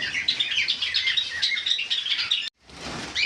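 Several white Java sparrows chirp in a dense, continuous run of bright tweets, close and fairly loud, broken by a brief gap before the chirping resumes.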